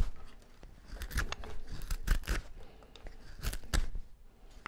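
A carving knife shaves heavy power cuts through a wooden butter knife blank, producing close, crisp scraping slices in short bursts.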